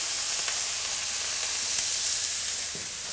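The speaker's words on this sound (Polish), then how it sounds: "kładziecie dopiero mięso wtedy, kiedy patelnia zaczyna się dymić" Beef steak hitting a smoking-hot domestic frying pan gives a steady, close, loud sizzle and hiss that fills the whole stretch with faint crackles throughout.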